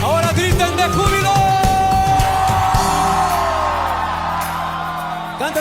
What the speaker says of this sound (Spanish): Ahora griten de júbilo.